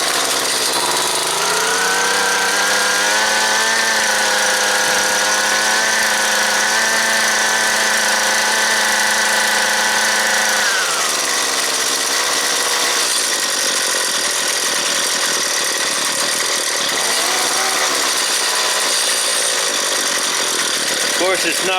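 A small string trimmer engine, not yet warmed up, runs on partial choke with a loud, buzzing whine. Its pitch holds steady, then drops partway through and wavers unevenly.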